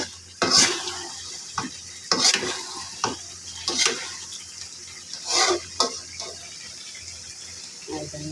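Native chicken pieces being stirred and sautéed in a pan until dry, with repeated scraping strokes of a spatula every second or so over a low, continuous sizzle, close and moderately loud.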